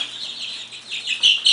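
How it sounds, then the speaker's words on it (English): Baby chicks being moved in a tightly packed carrier peep and chirp in high, thin calls that overlap continuously and grow louder toward the end, heard up close. "it'll hold all 31 baby chicks"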